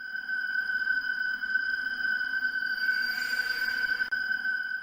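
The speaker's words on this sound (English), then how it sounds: "This sound only ever plays under one condition: Springtrap's proximity to you." Springtrap's proximity sound effect from the video game Five Nights at Freddy's 3: a steady, sustained electronic ping-like tone ringing continuously at an even level, heard alone without any talk.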